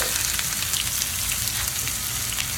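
Biryani ingredients frying in oil and ghee give a loud, dense, continuous sizzle close up, crackling steadily with no break throughout.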